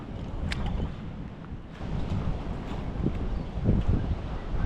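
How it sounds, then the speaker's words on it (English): Wind blows over a bay during a kayak fishing tournament as a steady, rumbling gusty roar buffeting the microphone, with faint rustles and knocks on top. "A lot of guys did not go out into the main part of the bay because of this wind."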